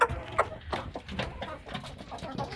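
Chickens in a hot coop at 40°C, soft clucks and rustling fowl sounds close by, fairly quiet, with a little background noise.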